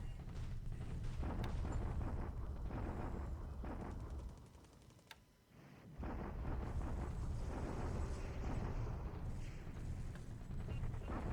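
Bombardment in a WWII strategy game set in 1941 with Japan against the Allies: a faint, continuous rumbling barrage of booms and crackles that briefly dips, then resumes.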